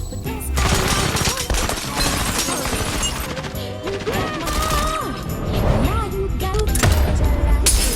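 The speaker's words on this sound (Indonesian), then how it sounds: "tiba-tiba datang 3 anak buah Jabal yang langsung menyerang Morgan dengan tembakan." Loud bursts of gunfire and crashing impacts over a dense, music-heavy action soundtrack, with no clear talking.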